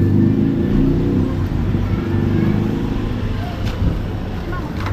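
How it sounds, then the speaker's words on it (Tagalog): Steady, loud road traffic fills the air, with car and vehicle engines rumbling continuously close by and no clear gaps. "Traffic."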